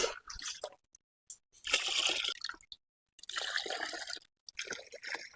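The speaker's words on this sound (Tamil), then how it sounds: "இப்போ தண்ணி ஊற்றிக்கலாம்." Water is poured into masala in a pot over a wood-fired stove for a 2 kg quail biryani, coming in several splashing bursts separated by short silences, close and moderately quiet.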